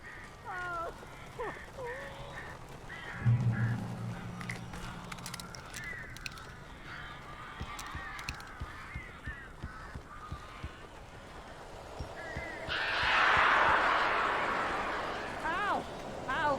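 Crows caw and squawk in the Alan Wake video game amid other game sounds, scattered harsh calls at moderate distance, with a brief low rumble early and a louder burst of noise near the end.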